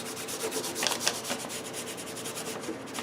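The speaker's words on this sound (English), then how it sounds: "Maybe cutting the veneer out." Wood veneer being cut or worked for an Emerson 628 radio cabinet, giving a continuous close scraping, rubbing texture with a few sharper scratchy strokes and no talking.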